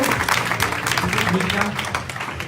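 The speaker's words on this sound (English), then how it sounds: "let's give a round of applause to Howard Taker" An audience at a real estate talk applauds a guest, a loud, close wash of clapping with voices and chatter mixed through it.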